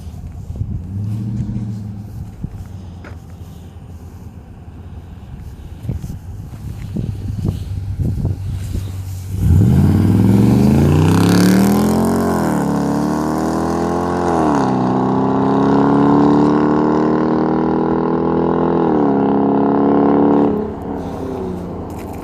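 A Dodge Durango RT with the 5.7 Hemi and a muffler delete idles with a low rumble, then roars at wide-open throttle as it accelerates past, its rising engine note holding loud and drawn out before dropping away.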